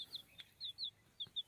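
Faint, short, high chirping calls from village chickens come in quick scattered bursts, several within a second and a half, with no talking.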